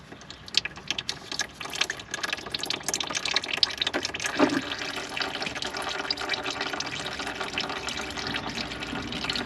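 Transmission fluid drains out of a 2020 Jeep Gladiator with a manual gearbox, a continuous splashing trickle into a pan that stays fairly loud and steady throughout, with no talking.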